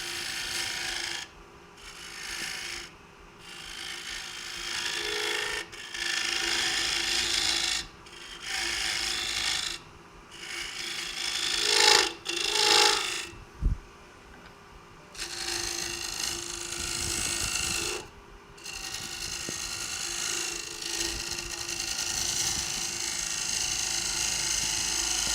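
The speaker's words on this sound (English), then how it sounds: "So I'm just gonna do a finish cut here." A lathe making a finish cut on a lamp part, a loud continuous rasping, grinding whir that drops out briefly several times when the cut pauses, then resumes.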